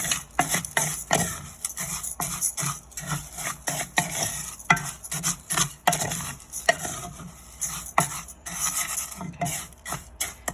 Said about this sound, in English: then we put the rice in, 2 cups of rice. And then we mix that around just so the rice is covered with the oil